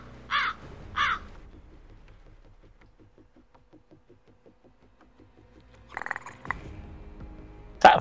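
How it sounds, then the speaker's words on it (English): Crow cawing sound effect played during a Call of Duty MW3 session: two loud harsh caws at the start, a quiet stretch of faint ticking, then another burst of caws near the end. "That fucking crow or something you've got there."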